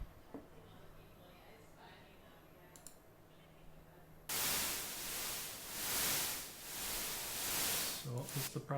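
Steady broadband white noise from a phone app starts abruptly partway through, loud and constant with slight swells, after a quieter stretch of faint clicks.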